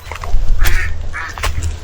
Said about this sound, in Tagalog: Yung pato lang yung sumagot sa akin, sabi niya, wak!